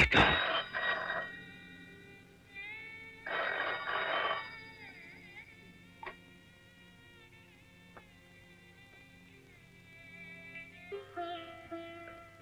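An old telephone bell rings in a Hindi action-romance film scene, several loud jangling bursts at a steady spaced rhythm, sitting over soft background music.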